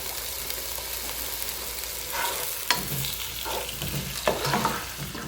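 Chicken and aromatics for a tamarind chicken soup sauté in a hot pan, giving a steady sizzle with scraping stir strokes and clinks throughout.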